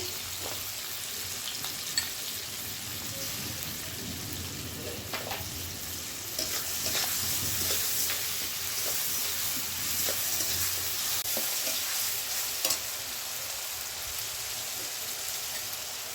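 Ginger-garlic paste fries in a pan for a fish-roe bharta, making a continuous crackling sizzle with occasional spatula scrapes and taps throughout.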